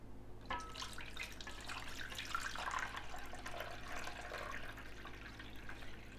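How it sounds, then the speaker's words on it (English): Four cups of water poured into a roast beef pan with bay leaves and seasonings, a continuous soft splashing and trickling stream that runs throughout at a moderate, close level. "And we'll add our 4 cups of water."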